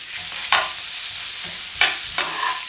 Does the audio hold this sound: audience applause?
no